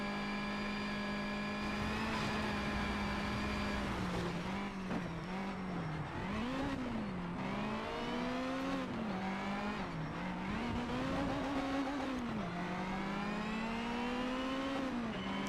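Race car engines in the video game Need for Speed Shift 2 Unleashed, loud and continuous, revving up and down through repeated gear shifts as cars jostle and overtake, with no talking.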